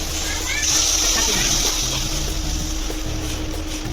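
Cluster beans tipped into a pan of hot oil with black masala set off a loud, steady sizzle and splatter that runs without a break for the whole stretch, with a voice talking over it.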